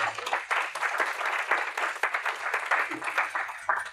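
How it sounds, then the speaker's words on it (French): Audience applause for a visual identity designer at a perfume and beauty event, a steady stretch of dense clapping at moderate volume with some voices mixed in. "Vous pouvez l'applaudir"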